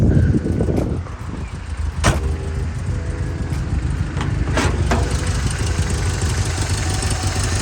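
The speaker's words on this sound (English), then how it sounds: "Idle's a little low." A 1963 Volvo Amazon wagon idles a little low, its steady low engine rumble close by and continuous, with a couple of sharp clunks like a door or hood along the way and no talk.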